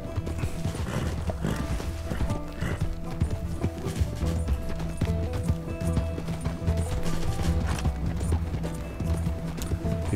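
Horse hooves clip-clop steadily in Red Dead Redemption 2, a continuous rhythmic trot under game music and ambience, with an occasional whinny.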